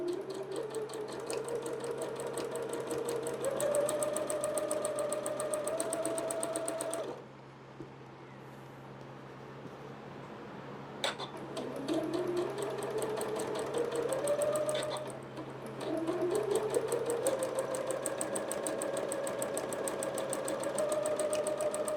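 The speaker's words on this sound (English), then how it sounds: "Now we're gonna sew 1/4 of an inch on the other side of the line." A sewing machine stitching a quilt block, running in two long steady bursts of rapid mechanical whirring with a short quiet pause between them, close and moderately loud.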